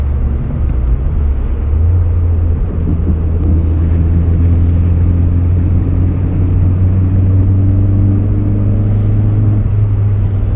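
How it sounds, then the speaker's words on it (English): A 1990 VW Corrado G60, a small coupe of 160 horsepower, accelerates with a steady low engine drone heard from inside, its pitch rising gradually under constant road rumble. "Takes a little bit to get up to speed."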